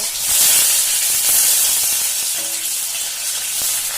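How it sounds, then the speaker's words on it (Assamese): Chopped onions hitting hot oil in a kadai give a loud, bright, steady sizzle and hiss that fades slightly over a few seconds, close up with no talking. "কেৰাহী এখনত তেল গৰম কৰি প্ৰথমতে কাটি লোৱা পিঁয়াজখিনি দি দিব"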